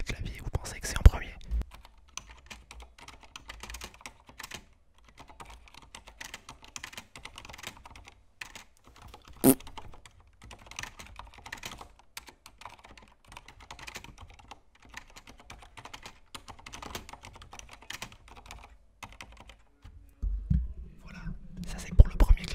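Soft, steady clatter of keystrokes on a mechanical computer keyboard, a Corsair K70 MK.2, captured by a nearby microphone, quiet and continuous, with brief faint speech-like murmurs near the start and a louder bump toward the end.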